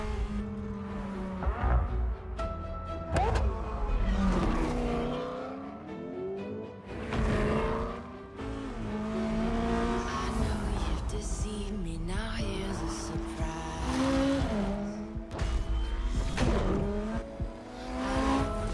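Racing cars in the Forza Horizon 4 video game trailer, engines revving and shifting through gears with tire squeals, loud and continuous with rising and falling pitch, plus a faint music bed.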